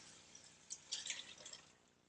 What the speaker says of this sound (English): And then we're going to dump in all of our liquid.